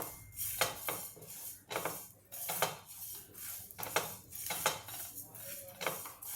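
Mustard seeds dry-roasting in a metal pan for Maharashtrian metkut, heard as a spoon clinking and scraping against the pan in an irregular rhythm, close and fairly quiet, with no talking.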